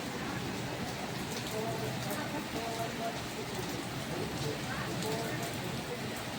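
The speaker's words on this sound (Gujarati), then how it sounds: "પાછો વરસાદ ચાલુ થઈ ગયો છે" Steady rain falls continuously during a thunderstorm at a home, a dense even hiss with scattered drip patter that holds at an even level throughout.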